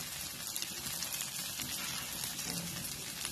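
Quiet, steady sizzle of bottle gourd appe batter roasting in a pan, a soft continuous crackle with no talk.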